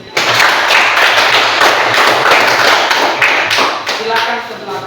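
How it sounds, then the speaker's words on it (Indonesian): Classroom audience clapping dense and loud for a school science study group's presentation, sustained applause with scattered voices underneath throughout. "Sekali lagi berikan aplaus untuk kita."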